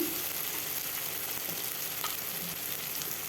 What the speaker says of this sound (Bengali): ভাজতে ভাজতে টমেটোটাও এইভাবে গলে যাবে দেখুন